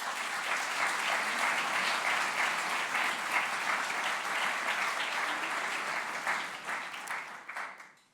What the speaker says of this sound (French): je pense qu'il et elle méritent aussi quelques applaudissements